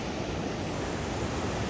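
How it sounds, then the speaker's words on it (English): A raging river crossing on the Pacific Crest Trail near Pinchot Pass roars as a loud, continuous broadband rush of water that fills the whole clip with no break. "So here it is, folks. Raging river."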